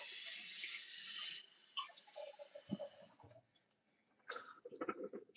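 Tap water runs steadily for about a second and a half as a spring roll wrapper is wetted at home, then cuts off, leaving soft handling clatter and small kitchen noises nearby.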